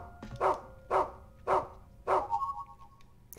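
A dog in a video game barks four times in an even rhythm, each bark loud and close with a clear voiced tone, followed by a short whine-like trailing note.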